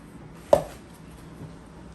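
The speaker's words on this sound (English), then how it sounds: "Just mash them up, mash them up" A single soft thud from mashing tangerines in a bowl for tangerine cinnamon bread, one short impact followed by quiet.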